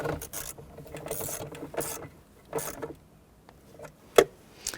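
Console bolts being run down and snugged inside a 1992-1996 Toyota Camry, a ratchet clicking in short close bursts with scraping in between and one sharp metallic tap near the end, no talking.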